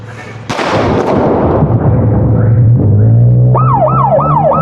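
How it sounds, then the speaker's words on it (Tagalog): A loud gunshot blast rings out as police are ambushed near a vehicle, followed by rumbling commotion, then a wailing emergency siren rises and cycles nearby. "dito na inambangan ng putok ng baril ang mga pulis."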